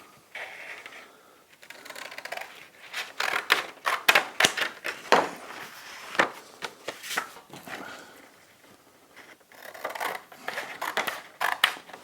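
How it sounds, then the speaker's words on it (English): Scissors snip repeatedly through thin wood veneer, a crisp crackling cut in irregular bursts with short pauses between strokes. "I'm going to use a pair of scissors to cut this"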